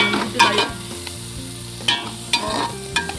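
Sardine curry bubbles in a pot as the lid comes off, a steady close simmering hiss punctuated by several sharp metallic clanks of lid and utensil, with no voices.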